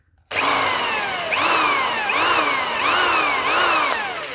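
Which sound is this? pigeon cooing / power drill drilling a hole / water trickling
power drill drilling a hole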